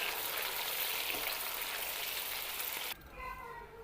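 Lightly browned onions with two chopped tomatoes fry and get stirred in a pot for chana pulao, giving a loud, steady sizzle that drops off abruptly near the end.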